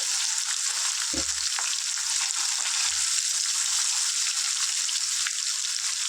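Korramenu fish pieces fry in hot oil over a medium gas flame, a steady bright sizzle throughout with a few soft low knocks, no voices.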